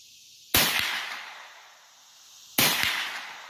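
Two loud gunshots ring out at a shooting range, about two seconds apart, each a sharp crack followed by a long echoing decay.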